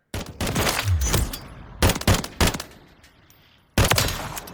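Tactical weapon firing single shots in Call of Duty Modern Warfare III, with loud sharp reports in two clusters of close bursts followed by a gap, then one more shot near the end.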